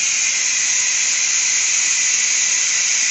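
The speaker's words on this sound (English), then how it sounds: "She is just going to put off that steam like a regular pressure canner would on the stovetop." Carey electric pressure canner venting steam, a loud, steady hiss that runs unbroken and alone for the full stretch with no talk.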